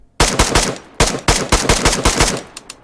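Rifle fire in the video game DayZ, loud close shots in a rapid burst with a short gap, then more shots in quick succession, each crack sharp and booming with no talk.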